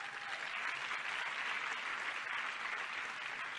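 An audience applauds after a speech, a steady, dense wash of clapping that holds at even loudness throughout with no talking over it.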